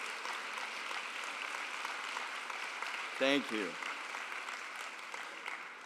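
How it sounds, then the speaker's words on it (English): A lecture-hall audience claps in sustained, even applause, moderately distant and filling the whole span, while a brief spoken thanks cuts through partway. "let's give you a big round of applause."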